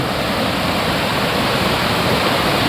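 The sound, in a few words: village waterfall and flowing water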